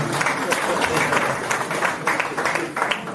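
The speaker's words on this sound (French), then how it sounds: "applaudissez bien" Audience applause at an awards ceremony in Cameroon, a dense, steady wash of many hands clapping that sounds fairly close and keeps up the whole time, with voices mixed in beneath it.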